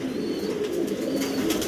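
Pigeons, a pair of shortface and racer birds, coo steadily in a low continuous murmur, close by and filling the whole stretch with no talk over them.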